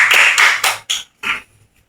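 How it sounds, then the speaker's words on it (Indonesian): Classroom applause for a student plays as a short burst of claps from a small group of children, quick and close, fading into a few scattered taps within two seconds. "Tepuk tangan untuk Eva."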